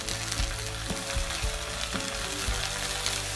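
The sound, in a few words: ginger garlic paste sizzling with fried onions in pan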